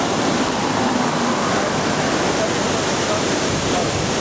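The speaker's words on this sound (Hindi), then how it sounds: "यहाँ जगह जगह ना आबशारें और चश्मे बह रहे हैं" Mountain streams and waterfalls pour down the slopes of Upper Dir in Khyber Pakhtunkhwa, Pakistan, giving a steady, loud, unbroken rush of water that fills the whole stretch without pause.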